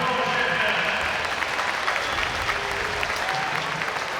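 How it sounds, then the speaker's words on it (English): Ice hockey crowd at an EIHL game between Sheffield Steelers and Manchester Storm applauding the officials, a broad, sustained wash of clapping filling the arena with faint voices mixed in. "That's what it takes for the officials to get a round of applause."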